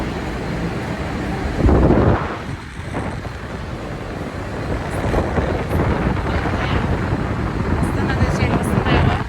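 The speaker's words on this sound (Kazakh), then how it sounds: "Астанада жел осындай ма?" Strong wind in Astana buffets the microphone with a loud, continuous roar and gusty swells, while people talk over it throughout.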